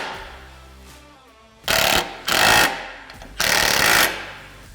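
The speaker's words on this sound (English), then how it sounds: "Now we're going to fully tighten these bolts here." Three loud bursts of an impact driver or power tool tightening bolts on a SuperATV front bumper for a CFMoto UForce 1000, each burst about half a second long with short pauses between them, following a quieter mechanical hum.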